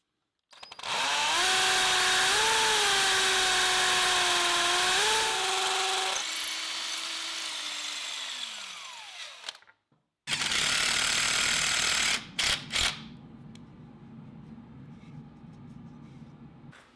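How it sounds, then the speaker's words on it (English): Hammer drill with a masonry bit boring into a wall, a loud close whine that rises and dips as pressure changes, winds down, then a second harsher burst of drilling with rattling before trailing off. "with a masonry bit in your drill and set the drill on the hammer drill setting"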